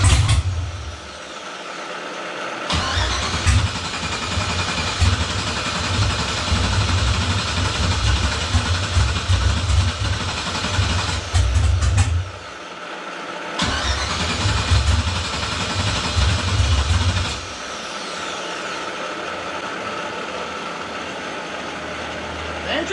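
A V8-swapped Camaro running on a Holley Terminator setup, the engine idling loudly and steadily close by, with two short dips where it drops out or stalls before picking back up.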